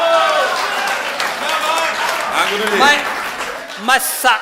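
An audience at a Hindi comic poetry recital applauds in a dense, steady burst of clapping, heard near and loud with voices calling out over it.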